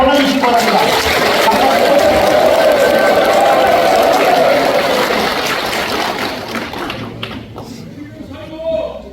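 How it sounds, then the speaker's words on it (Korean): A large crowd claps steadily at an outdoor veterans' rally calling for a higher honorary allowance. The dense applause runs for several seconds, partly under a voice on a loudspeaker, and thins out toward the end. "단결의 박수를 보내주시기 바랍니다."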